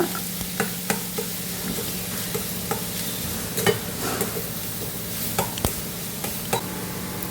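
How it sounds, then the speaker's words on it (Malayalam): Turmeric gets stirred into a thoran curry frying in a pan for Onam, a soft continuous sizzle broken by scattered scraping clicks of a spoon against the pan, close and alone without voices. "മഞ്ഞപ്പൊടി ഇട്ടു വീണ്ടും ഇളക്കുക"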